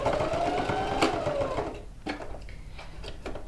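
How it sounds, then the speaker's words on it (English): A sewing machine stitches a quilted coat pocket in a close, rapid whirring run that stops partway through. Short back-stitching bursts and small mechanical clicks follow. "I stitch about 1/4 of an inch past the connection of the pocket, then I'll back stitch"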